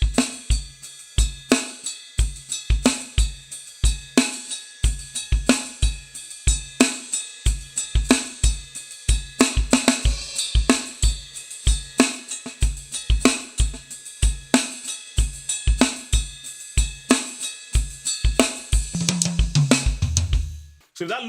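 Drum kit groove with hi-hat keeping steady eighth notes over kick and snare, a dense, continuous pattern played loud and close, ending in a low tom fill.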